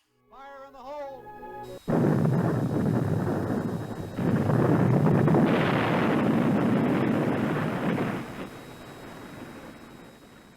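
Homemade dynamite charge going off during the salvage removal of a WWII submarine's propellers: a sudden loud blast followed by a long roaring rumble that swells again and slowly fades, preceded by a brief shouted voice.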